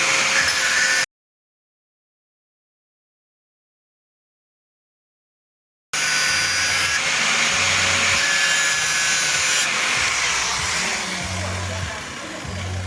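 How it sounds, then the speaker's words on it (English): A metal tool bit is ground down to a smaller size, probably on a power grinder, for removing broken bolts. Loud, steady abrasive grinding plays briefly, cuts to silence for about five seconds, then resumes and holds. "You have to grind it to a smaller size."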